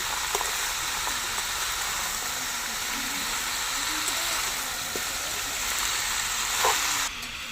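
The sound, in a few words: ash gourd being stirred and fried in oil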